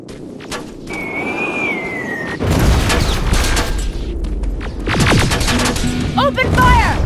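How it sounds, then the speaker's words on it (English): Gunfire in the first-person shooter Terminator: Resistance during an Infiltrator Terminator boss fight, loud bursts of shots mixed with game noise and electronic whines, under and between voices. "Open fire!"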